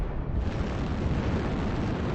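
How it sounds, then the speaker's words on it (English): An artillery strike explodes in the MechWarrior Online video game: a dense, rumbling blast of crashing noise that fills the whole moment, loud and without speech. "He walked into my artillery"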